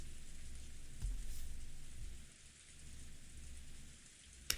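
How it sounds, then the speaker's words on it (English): Heavy rain pours down steadily in the Umineko visual novel game, a dense, constant hiss with low rumbling beneath and a brief sharp crack near the end, with no voices. "It seemed to be pouring down thickly. Yeah, definitely. It began to rain later than the weather reporter predicted."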